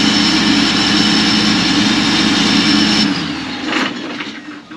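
A broken John Deere combine harvester's engine runs loud and steady with a heavy low roar, then cuts out about three seconds in and winds down into quieter rattling.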